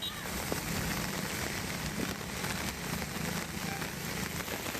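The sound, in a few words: heavy rain falling in Kanchipuram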